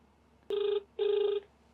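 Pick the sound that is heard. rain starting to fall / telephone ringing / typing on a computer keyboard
telephone ringing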